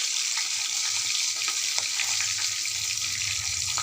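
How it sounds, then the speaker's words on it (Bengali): Fish heads sizzle and crackle as they fry in oil over a wood-fired clay stove, a steady close hiss with small pops and occasional stirring, no voices. "দেখো মাছগুলো ভাজা চলছে, মাছের মুড়াগুলো ভাজছি।"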